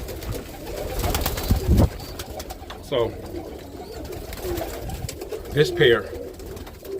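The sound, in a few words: roller pigeons cooing in the loft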